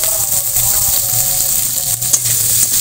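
Ivy gourd and potato pieces fry in a pan with a steady, close sizzle and crackle, a continuous hiss running the whole time with occasional soft stirring clinks.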